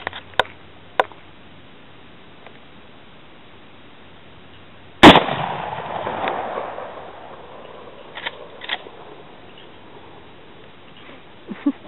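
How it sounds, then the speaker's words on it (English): Marlin 336Y rifle fired at cans sitting on a log outdoors: a couple of sharp shots, a few soft clicks, then one loud report with a rolling echo tail. "Let's go ahead and shoot that last log sitting on top by itself"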